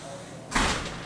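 A door closing as someone leaves through the exit, a single broad whooshing thud in the middle of a short stretch of room tone, moderately loud.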